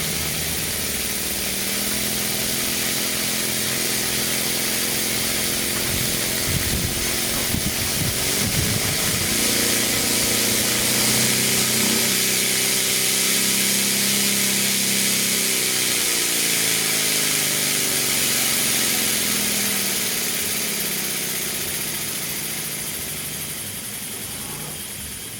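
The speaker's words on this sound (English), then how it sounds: "That's a beautiful smooth engine." Stuart D10 model steam engine running fast and smooth, steam-fed from a Stuart 504 boiler, giving a steady, close, continuous mechanical whir and hiss that holds evenly throughout without any talking.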